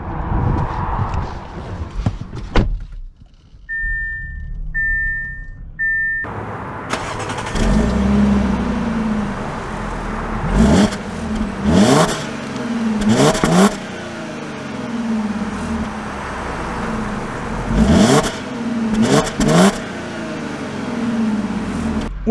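An Audi Q7 starts up after a few chimes, then its engine revs and pulls away through repeated gear changes, a moderate cabin-level drone rising and falling as it drives.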